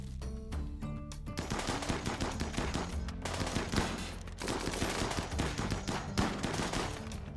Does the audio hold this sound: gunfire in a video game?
yes